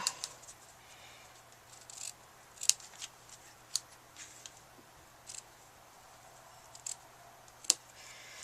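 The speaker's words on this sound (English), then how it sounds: "I like these little sharp scissors. I use these just for ribbons so they stay sharp." Small sharp scissors trim ribbon, snipping repeatedly at irregular intervals, sharp crisp cuts close up in a quiet room, some louder than others.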